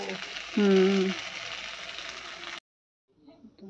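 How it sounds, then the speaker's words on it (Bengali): Chilies frying with salt in hot oil make a loud, steady hiss that cuts off abruptly partway through, with a brief tonal hum early on and faint kitchen noise afterward. "নুন দিয়ে লঙ্কা ভাজবো"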